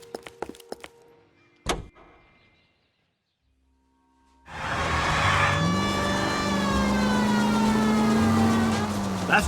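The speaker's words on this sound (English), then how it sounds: "We have a siren." A police car siren sounds in the video game L.A. Noire. A few sharp clicks and a silent pause come first, then a loud wailing siren starts and holds steady over engine rumble.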